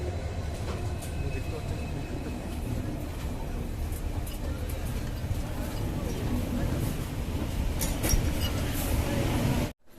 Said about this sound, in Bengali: কামাখ্যা জংশন ছাড়ার পর আমাদের ট্রেন তার শেষ গন্তব্য গুয়াহাটিতে এসে পৌঁছালো রাইট টাইমে।